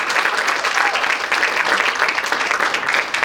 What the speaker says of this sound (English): So if you give a round of applause for these organizations,